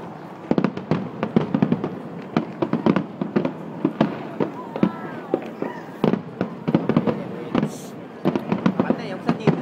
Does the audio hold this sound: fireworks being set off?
yes